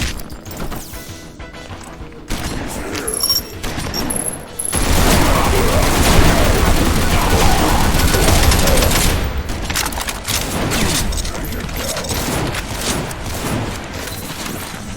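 Weapon gunfire in Project Brutality for GZDoom: loud, dense bursts of shots and crashing impacts go on for most of the stretch, with a brief quieter gap near the start.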